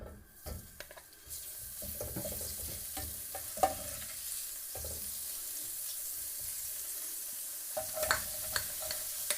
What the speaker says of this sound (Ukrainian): і обсмажуємо цибулю